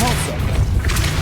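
Depulso spell in Hogwarts Legacy fires with a dull thump and a swishing rush, a single forceful hit followed by a brief whoosh, with a voice faintly present alongside.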